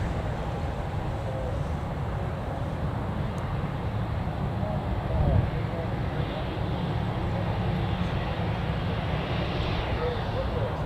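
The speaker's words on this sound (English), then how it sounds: "So that's that Embraer jet now on the runway." Embraer jet engines roar steadily on an airport runway, heard from outside the airfield fence as a broad, distant rumble that holds at an even level throughout.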